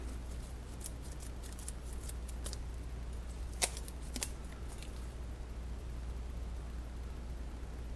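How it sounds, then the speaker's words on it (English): Packaging for a camera boom build is unwrapped, giving a scatter of faint, sharp clicks and snips over a steady low hum. One louder tick falls midway. "Let's get this stuff unwrapped."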